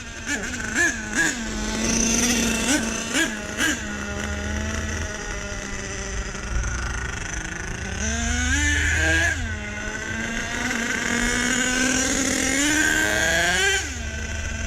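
A fuel-powered RC car with new clutch bells, spur gears and fuel mixture runs loudly close by, revving up and down in sharp rising whines over a steady engine drone.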